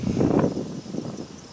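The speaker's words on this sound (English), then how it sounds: "excuse the wind, it's a little windy out here" Low, blustery wind buffets the microphone in uneven gusts, rumbling loudly at first and then easing off.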